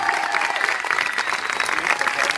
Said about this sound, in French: si quelqu'un peut faire un maximum d'applaudissements pour Mathieu